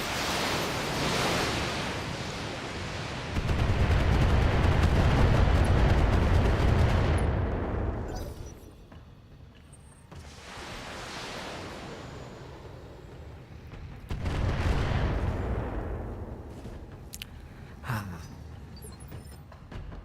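Catapult BattleMech weapons firing in the BattleTech video game: two long, heavy rumbling barrages of missile launches and explosions, each several seconds long, separated by a quieter lull, loud and alone without talk.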